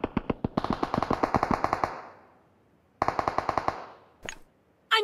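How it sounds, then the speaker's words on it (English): Automatic gunfire in PUBG Mobile, a few single shots followed by rapid bursts with a ringing tail, then another burst and scattered shots, fairly close and clear. "I'm getting shot!"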